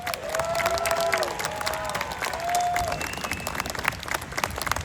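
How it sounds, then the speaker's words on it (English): A crowd at a commemoration event claps after a presentation, the applause broad and sustained, with a few whistles and cheers rising above the clapping. "Let's give him another round of applause."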